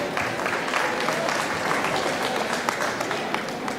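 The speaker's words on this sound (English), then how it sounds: "Give them a round of applause, please." Steady, dense applause fills a room at a senior celebration, a continuous wash of many hands clapping at even loudness throughout, with faint crowd murmur underneath.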